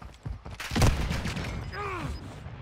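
Airstrike bombs explode in Warzone 2.0, a heavy booming blast followed by rumbling gunfire-like bursts and a falling whistle, loud and dense over game noise with a voice speaking briefly.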